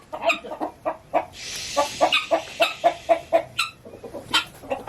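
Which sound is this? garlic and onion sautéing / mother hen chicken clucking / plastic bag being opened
mother hen chicken clucking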